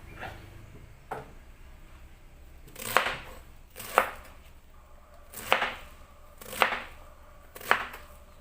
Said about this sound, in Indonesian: ini ada satu potong kubis diiris kotak